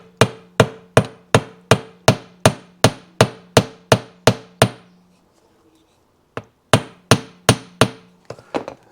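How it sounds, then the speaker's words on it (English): A hammer strikes metal wire during repairs on a Yamaha AT Enduro motorcycle, ringing out in a steady run of about twelve loud, evenly spaced blows, a short pause, then four more hits followed by a few lighter taps. "I'm going to see what I can do with a hammer."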